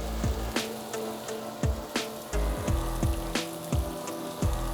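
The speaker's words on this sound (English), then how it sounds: "Hear the light sizzle?" Fish sizzles in hot oil with a light, even frying hiss, broken by regular close spits and pops in a steady rhythm, with no talk.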